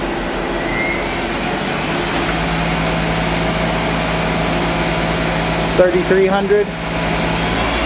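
A Daewoo Puma 200LMSC CNC turning center with Fanuc 18T control runs its spindle at high RPM, a steady smooth mechanical hum and whir, with a voice briefly speaking over it near the end.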